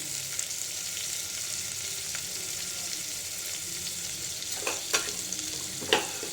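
Sliced onions and slit green chilies fry in a pan with a constant bright sizzle and a few sharp stirring scrapes near the end.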